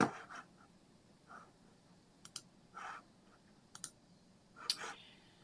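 Faint, irregular clicking of keys on a computer keyboard, short bursts of taps separated by pauses in a quiet room.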